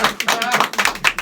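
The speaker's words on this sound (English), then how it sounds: "Let's do a hand clap." A soundboard hand-clap effect on a podcast: a quick run of sharp, evenly spaced claps, about six in just over a second, loud and close, with a voice murmuring faintly underneath.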